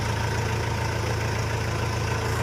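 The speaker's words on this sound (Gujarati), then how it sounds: "ટ્રેક્ટર બે ભેગા ચાલે છે" Two tractors, one a Mahindra, run together in a castor field in a steady, low rumbling drone that holds evenly throughout, with no voices.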